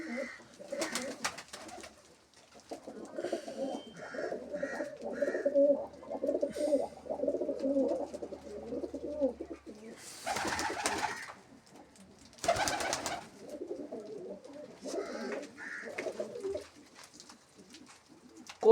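Pigeons coo softly and repeatedly in a loft where a young black pigeon is kept, low rolling calls that come in waves with bursts of wing flapping and scuffling in between.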